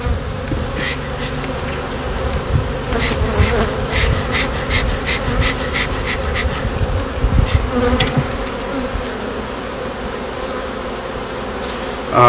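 Buckfast honey bees buzzing densely around open hive frames, a loud continuous drone close by with no talking.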